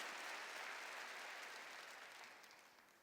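A church congregation claps together during a sermon, a soft wash of applause heard from a distance that slowly fades toward the end.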